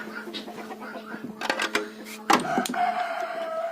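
Guinea fowl being let out into a village yard in rural Ukraine give a burst of loud, harsh calls and squawks, close by, with overlapping cries rising toward the end.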